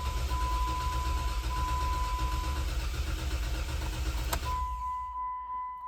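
A Jeep 3.6 Pentastar engine cranks over with the accelerator pedal held to the floor, a loud continuous rhythmic churning close by that drops off abruptly near the end.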